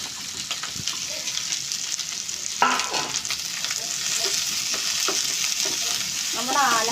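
Finely chopped small onions (shallots) fry in a pan for an onion curry, making a loud, continuous sizzle with stirring scrapes that swells slightly toward the end.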